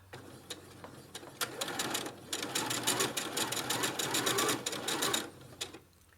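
A sewing machine stitches fabric in rapid bursts of sharp, rhythmic needle clatter over a low motor hum, starting in short taps, running steadily, then stopping, close and fairly quiet.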